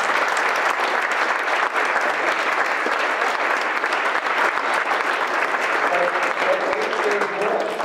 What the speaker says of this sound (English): please join me in giving Dan a big round of applause